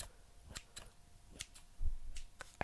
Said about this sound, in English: I have some scissors to open these packets.